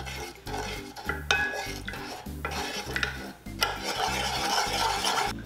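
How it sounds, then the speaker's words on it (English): Syrup being stirred in a small saucepan over low heat for Cantonese char siu, with a utensil scraping and clinking in a steady rhythmic circling, close and clear with no voices. "Stir until dissolved."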